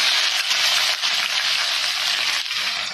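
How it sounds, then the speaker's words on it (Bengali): Chopped onion frying in a pan, a loud, close, steady sizzle with a faint stirring rustle running through it. "এরপর এর মধ্যে দেব পেঁয়াজ কুচি"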